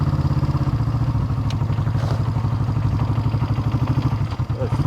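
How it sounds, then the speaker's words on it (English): A Honda CB350 motorcycle, said to have low compression, runs under way with a steady, close, pulsing engine thrum and mechanical clatter throughout, with a faint voice underneath. "it's a beautiful motorcycle."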